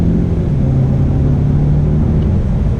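A 2019 Mazda 6 in sport mode pulls hard under acceleration, a loud steady engine drone rising slightly in pitch with constant cabin rumble and no talking.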